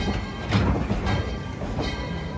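A Dollywood theme park train rolls along its rails with a steady low rumble and soft clatter, fairly close and continuous, with no talk over it.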